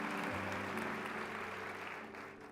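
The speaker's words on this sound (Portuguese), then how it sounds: "Mistura esse aplauso com glória a Deus e aleluia." A church congregation keeps up sustained, even applause, a steady wash of clapping that fades slightly at the end, with faint voices beneath.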